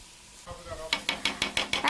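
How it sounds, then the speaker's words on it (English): Breaded chicken being stirred in a Turbo Cooker pan, a soft sizzle followed by a quick series of about six sharp scraping strokes in even rhythm, close and clear. "Now let me give this a little bit of a stir here."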